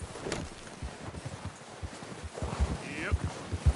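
Horse hooves clop in a steady walking rhythm in the video game Red Dead Redemption 2, close and fairly soft, over a faint background hiss, with a brief voice near the end.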